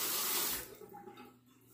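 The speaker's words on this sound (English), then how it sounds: "Let me go ahead and wet this razor." A tap runs water briefly at a bathroom sink to wet a razor, a loud hiss that cuts off after half a second, leaving faint splashes and drips.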